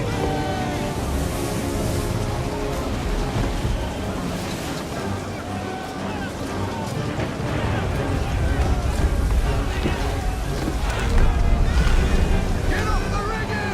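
A sailing ship labours through stormy wind and heavy waves in Assassin's Creed III, with constant roaring wind, surging water and creaking, and voices shouting orders over the din.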